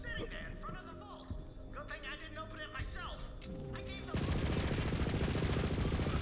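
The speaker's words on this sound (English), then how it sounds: "that gun is just pure fucking destruction" Rapid, loud automatic gunfire from a weapon in Borderlands 3 erupts after a few seconds of game sounds and chatter, a steady dense stream of shots to the end.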